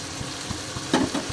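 Masala with green chillies fries for chilli chicken, sizzling steadily in hot oil under a rhythmic scrape of stirring, with one louder clatter near the end.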